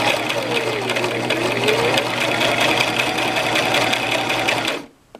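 A Brother LX 3817 sewing machine stitching a vest placket at a kitchen table, a rapid steady mechanical whirr running close and loud for about five seconds before stopping.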